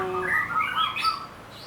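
A white-rumped shama sings a quick, bright phrase of rising and falling whistled notes, clear and fairly close, over faint background noise.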